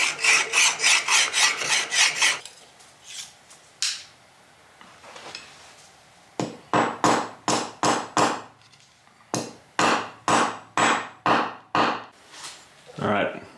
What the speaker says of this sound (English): there are some little raised bits on the bronze here, so I'm going to go ahead and file this flat